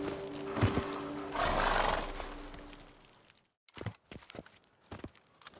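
In the video game Witcher 3, a horse gives a loud neigh while its hooves clop along, then the hoofbeats slow and fall into a few separate, sparse steps after a brief quiet.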